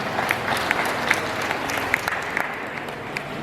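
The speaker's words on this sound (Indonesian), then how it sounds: "Tepuk tangan." An audience at a public question-and-answer forum about Covid data claps in steady, moderately close applause, a dense patter of many hands with a few sharper individual claps standing out, and no talking over it.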